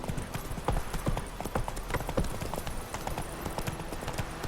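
Rapid clip-clop of horse hooves galloping at a steady pace in The Witcher 3, fairly loud and close, with a faint murmur of ambient noise underneath.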